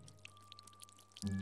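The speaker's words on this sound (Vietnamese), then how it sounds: "Đó là tiếng vòi nước âm ỉ, như ai đó mở van nước từ từ ra." A household water tap is opened slowly at night, a faint, thin trickle that suddenly swells into a louder pouring gush near the end, close and alone without voices.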